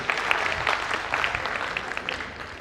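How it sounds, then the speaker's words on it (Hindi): At a Culture Department event at the 2019 Kumbh Mela in Uttar Pradesh, a crowd breaks into a sustained round of applause, with dense overlapping claps at an even level throughout. "इनके लिए भी तालियां हो जाए आपकी"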